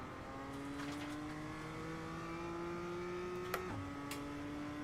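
In a sim racing game, a car engine holds a high, steady whine against the rev limiter, drops sharply near the end, and then carries on droning at a lower pitch, with nothing else heard.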